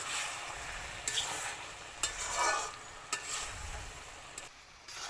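A spoon scrapes and stirs cabbage curry with shrimp, peas and lentil dumplings in a pan as it starts catching on the bottom. Sharp scrapes land about once a second over a soft, steady sizzle, close up and without talk.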